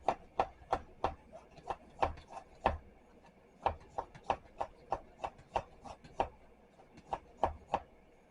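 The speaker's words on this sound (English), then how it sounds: "I'm just rough chopping some of my steamed vegetables, the cauliflower and the turnips" A knife rough-chops steamed cauliflower and turnips on a cutting board steadily, about two quick thuds per second, close and crisp, with a brief pause partway through.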